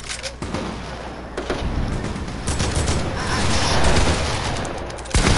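Gunfire rings out in a creative-mode shooter video game, with loud dense bursts of shots and booms over game noise, and players chatter over the action.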